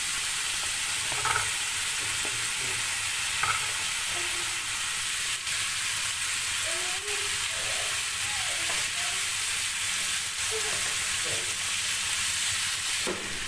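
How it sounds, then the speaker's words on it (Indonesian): Broccoli and mixed vegetables for capcay stir-fry in a pan with a steady, dense sizzle, joined by occasional scrapes and clinks of stirring, all close and continuous. "Cukup dioseng-oseng sedikit lalu angkat."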